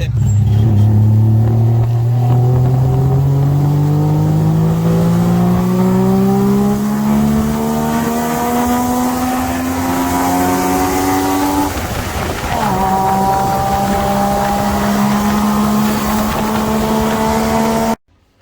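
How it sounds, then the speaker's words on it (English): A tuk-tuk engine revs while riding, its loud buzzing pitch climbing steadily through a gear, dropping after a shift near the middle, then rising again before cutting off abruptly at the end. "I'm in a tuk-tuk."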